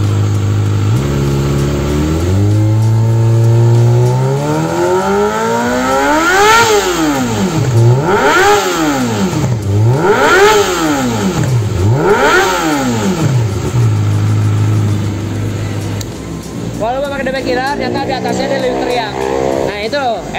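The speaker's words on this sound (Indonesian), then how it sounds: "Ini posisi DB Killer masih dipakai, jadi kita geber dulu." A Kawasaki ZX25R motorcycle with a LeoVince exhaust, dB killer fitted, idles and then revs up and down four times in strong rising and falling sweeps before settling back, loud and close.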